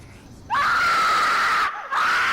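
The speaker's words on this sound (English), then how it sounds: "A blood-curdling scream pierced through the night" A loud, piercing scream starts suddenly and holds steady at high pitch, breaks off briefly, then resumes just as intensely.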